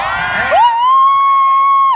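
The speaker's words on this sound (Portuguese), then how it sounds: "E a torcida vai à loucura" Spectators at an altinha beach tournament in Natal whoop and cheer loudly, a burst of crowd noise that gives way to a long, sustained high yell or whistle-like shout.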